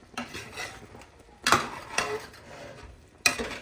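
Chicken being sautéed and stirred in a pan for a coconut-milk dish, with a few sharp utensil clanks against the pan over a soft background clatter.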